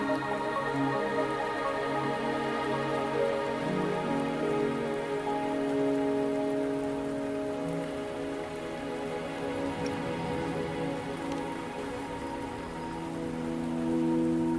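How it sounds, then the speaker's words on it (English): Steady rain falls throughout a scene in the video game Wuthering Waves, a dense, even hiss of drops on surfaces with no voices. "Are you trapped here by the rain?"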